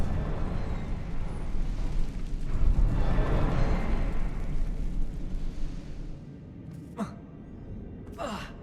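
Confringo spell explosion in Hogwarts Legacy, a broad rumbling blast that swells and slowly fades over several seconds, followed by a couple of short sharp whooshes or gasps.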